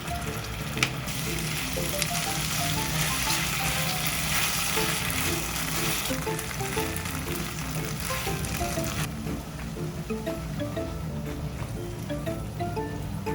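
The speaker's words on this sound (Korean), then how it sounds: "간장 2, 토마토 케첩 4, 식초 1, 버터 3 비율로 넣고 볶아줍니다." Soy sauce, tomato ketchup, vinegar and butter stir-fried together in a pan as an omurice sauce, giving a steady, dense sizzle that runs without a break throughout, moderately loud and close.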